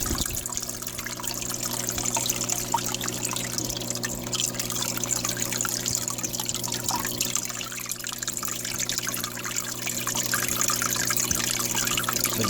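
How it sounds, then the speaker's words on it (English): A small waterfall trickles continuously into a red clawed crab tank, a steady close splashing and dribbling of water with a faint hum underneath, no voices. "you can clearly hear a different tone in the water, and it does give it a little bit of a different effect"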